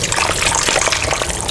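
Water runs and splashes steadily up close as boiled chicken is rinsed to wash off leftover foam, a brief continuous gushing with no talk.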